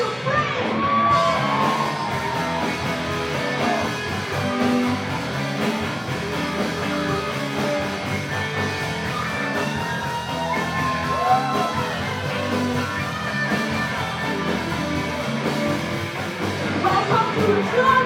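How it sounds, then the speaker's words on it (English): At a club concert performance, the audience screams and cheers over loud live band music, with shouts and whoops rising and falling throughout. "I wanna hear you scream."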